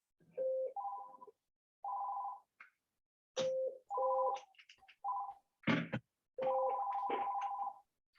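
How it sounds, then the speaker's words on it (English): A telephone rings in a repeating electronic ringtone pattern of bursts and pauses, fairly loud and close, with no voices heard. "the phone was ringing."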